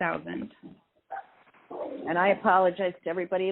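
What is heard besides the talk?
dog barking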